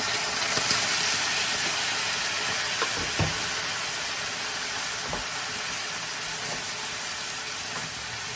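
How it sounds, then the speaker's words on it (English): Onions and a stock cube sizzle steadily in a pot as a seafood ogbono base cooks down, a continuous hissing fry with occasional soft pops. "I'm going to let that cook down now until the onions and the stock cube dissolve"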